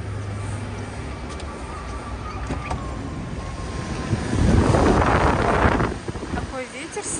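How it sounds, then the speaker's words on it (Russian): Strong wind outdoors at the Talan Towers complex rumbles against the microphone, swelling into a louder, close gust for about a second and a half before easing back to a steady rush. "Такой ветер сильный."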